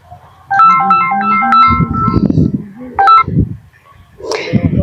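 A mobile phone rings with an incoming call, playing a loud, close, melodic ringtone of bright stepped tones that repeat in short phrases, with a few brief voice sounds in between.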